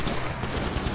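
Dense, continuous gunfire during a GTA 5 Online police shootout, with rapid overlapping shots and bursts filling the whole moment at a steady loud level, no pauses and no talking.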